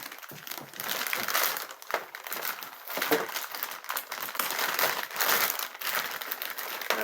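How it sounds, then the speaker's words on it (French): New store-bought packaging, wrapped around an air purifier, crinkles and rustles continuously as it is unwrapped close by. The noise comes in irregular crackling waves with no one speaking. "on déballe"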